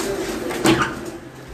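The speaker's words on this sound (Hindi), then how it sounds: "आज साहब देखो ब्रीडर कबूतर का जी केज है जी" A single soft coo from a breeder pigeon in a cage rises briefly over a low, steady background hum, close and fairly quiet.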